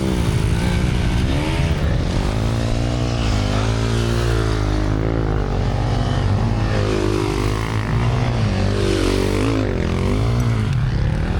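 A Honda CRF250L or CRF300L dual sport motorcycle revs close by in sand, its engine rising and falling in pitch in a loud, continuous drone.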